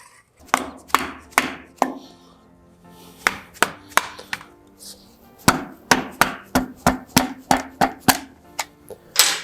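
Around fifteen sharp knocks in irregular bursts, close and fairly loud, as a piston is tapped down into the oiled cylinder of a Cummins 5.9 engine from a Ram 2500 during a rebuild.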